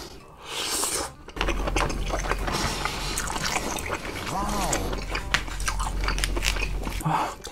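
Close, wet biting and chewing of food during a mukbang, a steady run of moist crunchy mouth sounds with brief talk near the start.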